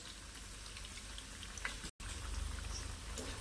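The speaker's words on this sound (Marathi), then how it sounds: "तर ही भजीत ना आपण थोडीशी गोल्डन भाजून घेऊया" Moong dal bhaji frying in hot oil give a steady, faint sizzle with scattered crackles and pops and no talking.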